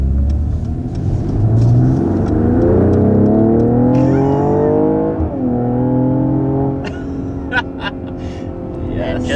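A 2021 Mercedes GLE 53 AMG accelerates hard to 60 mph, its engine loud and close, the pitch climbing steadily with a brief dip at each gear change before it pulls on.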